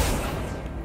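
An Accio spell in a Harry Potter video game sounds as a brief, dense, broadband whoosh-boom that stays loud through its short length.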